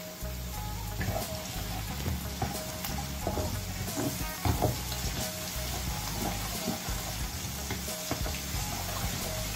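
Chopped ginger and garlic stir-fry in a pan for a rendang made in a rice cooker, with a steady close sizzle and scraping stirs throughout and no voices.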